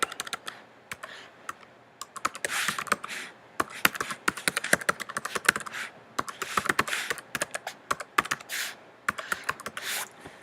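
Fingers type a web address on a computer keyboard in quick, uneven bursts of close, crisp key clicks with short pauses between words.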